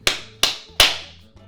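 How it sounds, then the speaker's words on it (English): Three sharp slaps of a soft roti dough ball patted between the hands, evenly spaced and close, followed by a faint softer tap. "shape it into like a ball and give it 3 slaps"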